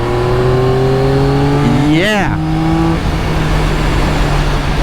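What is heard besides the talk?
Yamaha XSR900 900cc inline-three motorcycle engine revving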